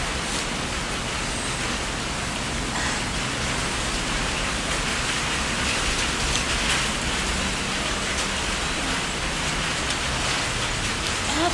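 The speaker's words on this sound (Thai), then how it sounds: "ฝนตกแล้วอะ" Steady, dense rain hisses continuously, an even wash of falling water with no pauses and no voices.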